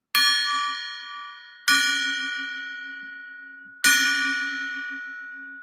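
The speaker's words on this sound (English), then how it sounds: "Is it time to ring the gong? Over? Ring it." A gong is struck three times, each strike ringing out bright and loud and then resonating in a long, slowly fading shimmer with no voices.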